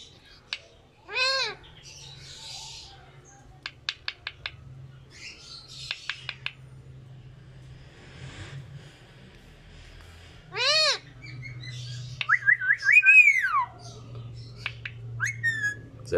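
A male Indian ringneck parakeet, a tame pet, whistles in short bursts of rapid chirps and swooping notes with quiet pauses between them, imitating the songs of a canary and a goldfinch over a low background hum.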